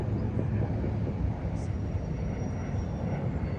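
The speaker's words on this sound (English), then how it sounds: "You can hear the airplane overhead" Airplane flying overhead at Sunset Cliffs, San Diego, a faint, continuous low roar spread evenly across the clip, distant and steady under outdoor ambience.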